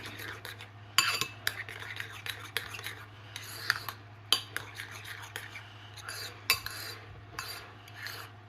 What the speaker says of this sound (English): now we're gonna mix. Get that egg all incorporated in there